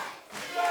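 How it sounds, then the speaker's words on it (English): Wrestling crowd at a live event chanting, a brief loud roar of many voices rising toward the end, dense and close. "The crowd are fighting back though."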